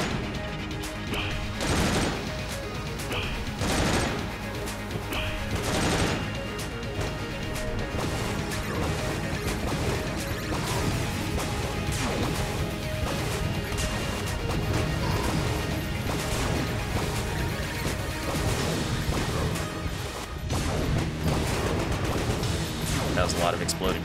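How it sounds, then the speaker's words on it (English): An exploding-sharks weapon fires in Enter the Gungeon, setting off a long, dense run of crashing blasts and bangs that go on steadily over game music, with someone talking at times. "But I have exploding sharks."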